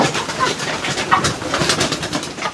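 Hungry pigeons coo repeatedly from close by, overlapping throaty calls in an uneven rhythm with some rustling and no one speaking.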